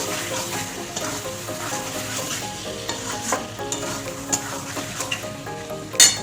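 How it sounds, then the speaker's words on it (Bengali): Mixed vegetables with pumpkin sautéing in a pan, giving off a continuous watery sizzle while a spoon stirs and scrapes at an unhurried pace, with one sharper clack of utensil on pan at the end. "সবজিটা দিয়ে একটু ভালো করে কষিয়ে নেব"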